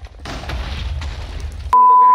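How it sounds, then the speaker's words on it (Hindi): A Minecraft TNT block detonates: a low rumbling boom of blocky explosion noise for over a second, followed abruptly by a loud steady electronic tone. "अगर जैसे यहाँ पे टीएनटी इग्नाइट हो जाएगा वहां सामने हो जाएगा धमाका"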